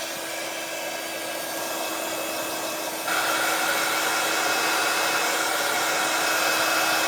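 A small heat tool or dryer gives stamped mirror card a quick blast, a steady loud whirring hiss that steps up in pitch and strength partway through, with no talking.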